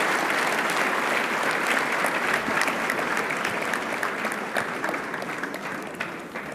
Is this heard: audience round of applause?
yes